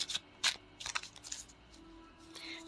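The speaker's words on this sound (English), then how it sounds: "I'm just going to shuffle the cards for you, Millie" A deck of tarot cards being shuffled by hand, with several sharp, close riffling bursts followed by softer sliding and tapping of the cards.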